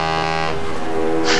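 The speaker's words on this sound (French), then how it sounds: "Je klaxonne." A loud, sustained horn blast from a vehicle in the video game Valheim, a steady droning tone held throughout, with no talk over it.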